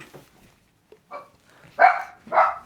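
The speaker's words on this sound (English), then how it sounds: "My dog's barking, by the way." A dog barks a few times nearby: a soft yip, then two louder, fuller barks close together, with no talk over them.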